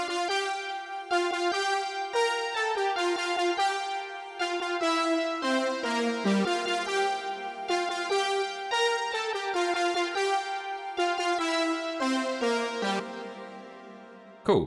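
A montage-style song section of three layered parts, a driving bassline, chords and a layered melody that mirrors a vocal line, plays as bright synthetic notes in a steady, busy rhythm, moderately quiet, with no talking.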